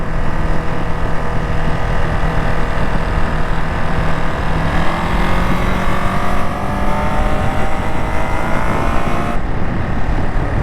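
Riding a Ducati Monster SP motorcycle: a steady, loud engine drone mixed with rushing wind, the engine note slowly rising and shifting throughout, with no voices.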